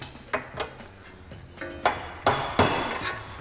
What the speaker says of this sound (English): let's hit it with a hammer